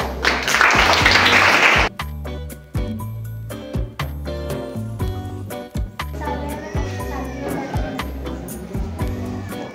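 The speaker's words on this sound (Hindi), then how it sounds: "चलिए बहुत बढ़िया, इनके लिए ताली बजाएंगे।" An audience at a school science exhibition breaks into a brief burst of clapping lasting about two seconds, followed by scattered taps and background music-like tones.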